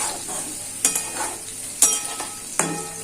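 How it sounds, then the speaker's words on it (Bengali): A spice masala cooked down in a pan with a little water for khichuri, soft sizzling under three sharp metal clanks of a spoon striking the pan, close by, no voices. "সামান্য একটু জল দিয়ে দেবো, জলের সাথে মশলাটা কষালে মশলাটা কোনোদিন পুড়ে যায় না।"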